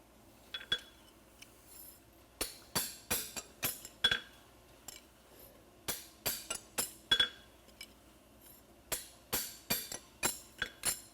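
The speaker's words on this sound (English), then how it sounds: "we'll punch out our nail holes one more time and be done" A blacksmith's hammer drives a punch through the nail holes of a concave-front horseshoe, sounding as bright metallic clinks in uneven bursts of quick strikes with short pauses between runs.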